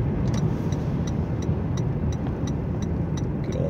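Toyota Prius Prime petrol engine running in freezing winter weather while driving on a highway, a steady low engine hum blended with tyre and road noise and faint clicks.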